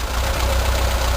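A 1984 Volkswagen Vanagon engine idles with a steady, loud low rumble and an even mechanical hum, heard close and alone.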